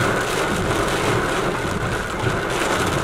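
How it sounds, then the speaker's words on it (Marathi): Heavy rain pours down outdoors on a trip, a steady, dense hiss that fills the whole stretch at a constant loud level with no voices. "मजबूत जोरात पाऊस आलाय"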